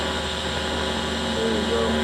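A TIG welding arc gives off a steady, even electrical buzz and hum that holds unchanged through the moment, with no gaps or bursts.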